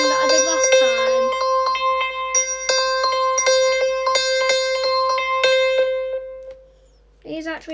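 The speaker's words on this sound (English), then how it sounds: "Notifier underscore bike bell." A bike bell notification ringtone plays as a string of bright, ringing bell strikes with sustained tones repeating rhythmically for several seconds, clear and close, ending with a brief voice.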